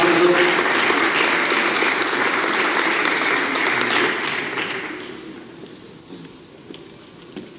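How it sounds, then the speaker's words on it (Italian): A large audience applauds as the president of ANCI Veneto is welcomed to the stage at a regional assembly of municipalities; dense, steady clapping fills the hall for about five seconds before tapering off into a quiet room. "Un applauso."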